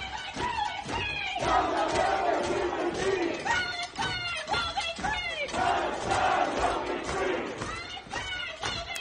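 A crowd at a pro-Palestinian protest at Cornell chants loudly in unison, rhythmic shouted phrases repeating with brief pauses, voices massed and close.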